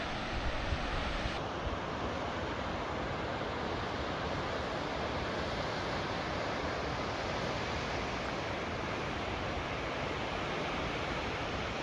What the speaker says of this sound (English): Got a waterfall there,